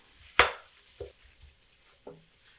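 A heavy wooden spoon breaks up spicy Italian sausage in a pot, giving one sharp knock followed by a few softer, scattered taps and scrapes over about three seconds, with no talking.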